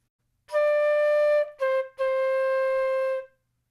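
A solo flute plays a short phrase from Beethoven's Ode to Joy in a dotted rhythm: a long held note, a quick short note, then another long sustained note.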